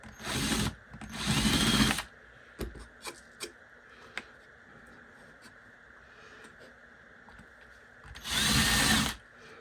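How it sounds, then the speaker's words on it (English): A power drill whirs in two short bursts, followed by light ticking and tapping, then one more sustained burst, drilling a countersink in thin scrap wood; close and fairly loud. "I'm going to actually drill the countersink first"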